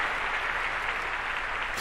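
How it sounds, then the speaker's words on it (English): Crowd applause in a video game, a dense, steady wash of clapping at moderate level throughout, without clear distinct cheers. "The crowd roars in delight."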